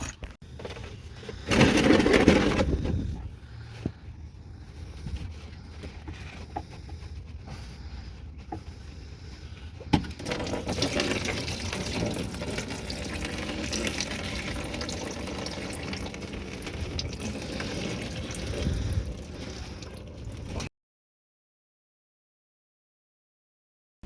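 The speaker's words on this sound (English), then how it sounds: "So here's hot water garden hose" Hot water running from a garden hose during a cooling system flush on a Toyota Sienna, a steady rushing hiss of flowing water that begins with a louder gush and then continues evenly for about twenty seconds.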